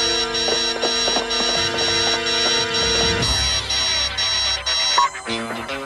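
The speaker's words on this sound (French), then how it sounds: "Le signal d'alarme." An alarm signal rings out as a repeating, tonal electronic pattern, loud and steady for several seconds with layered pulsing beeps, before shifting near the end.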